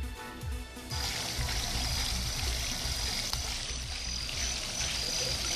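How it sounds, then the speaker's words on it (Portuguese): Water gushing steadily from an old leaking pipe in a residential street, a continuous rushing pour like a small waterfall that starts abruptly after a brief quieter moment and then holds a loud, even roar. "vocês estão ouvindo esse barulhinho? Não é cachoeira, não. Aí é um vazamento."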